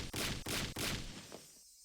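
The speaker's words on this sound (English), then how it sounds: "Shion banged on the door." Three heavy, booming bangs on a door in the Higurashi visual novel, evenly spaced and loud, with the last one ringing out and fading into near silence.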